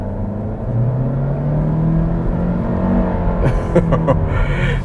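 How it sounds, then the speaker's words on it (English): A 2022 Honda Civic Hatch with a CVT accelerating in sport mode, its engine droning loud and steady with a rising tone, heard from inside the cabin, with a few clicks near the end. "let's put the vehicle into a sport mode here. I'm gonna accelerate, foot on the brake and accelerator."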